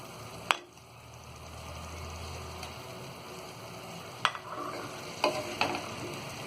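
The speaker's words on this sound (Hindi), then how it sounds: "अब इसमें हम ये फ्राई किए हुए अंडे को डाल देंगे" Fried eggs are stirred into a methi (fenugreek) gravy in a pan, with a soft continuous sizzle under occasional sharp clicks and scrapes of the spoon against the pan, close and moderately quiet.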